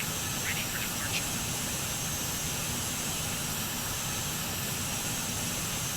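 Jet2 BAE 146 jet engines idling at a runway holding point make a loud, steady whine and roar that stays even throughout, heard from inside the aircraft, with no talking.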